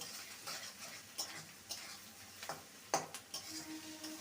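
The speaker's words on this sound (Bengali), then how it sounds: "এখানে প্রায় টু টেবিল স্পুন আদা রসুনের পেস্ট দিলাম ভালো করে কষিয়ে নেব" Ginger garlic paste frying in a pan for a mutton curry, a soft sizzle broken by irregular scrapes and knocks of a spoon stirring against the metal, close but fairly quiet, with no talking.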